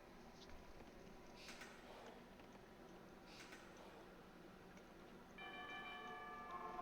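A town bell rings in Age of Empires II, sustained ringing tones near the end, faint and distant over a low, steady background hum.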